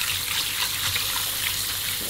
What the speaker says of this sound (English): washing your hands thoroughly with soap and water, under running water for at least 30 seconds